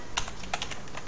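Quick keystrokes on a computer keyboard as someone types a search into a web browser on a laptop, a short run of crisp clicks in uneven rhythm, close and clear, with no talking.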